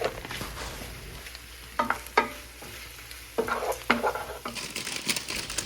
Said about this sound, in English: I'm going to give it a really good stir and make sure everything is mixed together